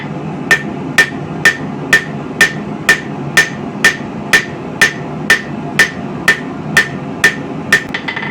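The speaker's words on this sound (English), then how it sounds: "we're going to use the round side of the hammer on this smooth side" A hammer strikes a knife blade on an anvil while it is forged by hand, giving steady, evenly spaced ringing blows, about two per second, loud and close, with no talking.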